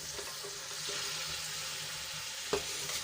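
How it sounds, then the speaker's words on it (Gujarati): Steady pan sizzle with scraping and stirring as torn pieces of bajra rotla are mixed into a spiced tempering with a little water, for a Kathiyawadi vaghārelo rotlo, ending in one sharp clink of a spoon on the pan. "એમાં આપણે બાજરીના રોટલાના જે કટકા કર્યા હતા એ એડ કરી દઈશું"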